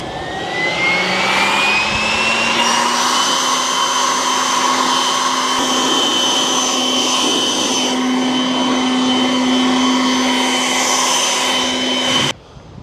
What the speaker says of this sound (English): Yeah, so it's quite a nice mower.